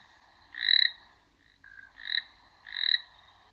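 A toad croaks three times in short, close, rasping bursts, with a quiet pause between the first and second call; no voices.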